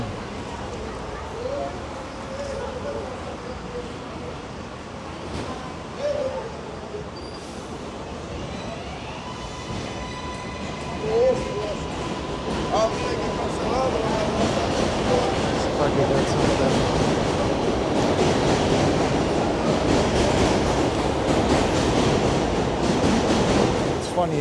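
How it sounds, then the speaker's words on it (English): A New York City train rumbles past in Corona Park, a steady broadband roar that builds through the second half over busy street ambience, with people talking nearby. "the train comes by every 2 minutes and I can't stand it"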